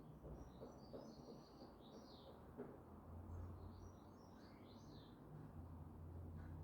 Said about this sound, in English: I can just hear the little birds tweeting.